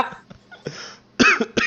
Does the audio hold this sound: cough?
yes